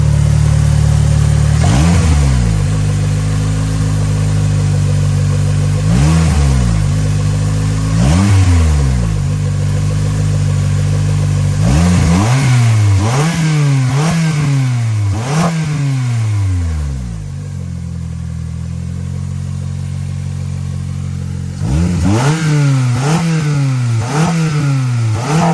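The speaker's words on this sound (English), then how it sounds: "Let's rev it a little bit so the fuel can send." An Acura TSX engine with newly installed injectors idles loudly up close and is revved repeatedly in short bursts that climb and fall back. Several revs come in quick succession, with a brief calmer idle stretch between them.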